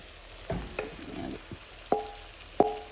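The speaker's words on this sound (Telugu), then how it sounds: "ఈ గోంగూర కూడా కొద్దిగా వేగాలండి నూనెలో." Gongura leaves frying in oil for pulihora, with a soft sizzle under a few distinct stirring clinks and scrapes of a utensil against the pan, close by and without speech.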